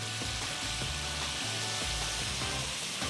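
Sauce with chili sauce and sweet soy sauce being stirred in a hot pan, a steady close sizzle with rhythmic scraping strokes of the spatula, no talking.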